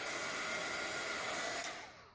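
Dryer blowing continuously to quickly dry the outer coat of paint on a small art card, a loud even hiss that holds steady and then tapers off at the end.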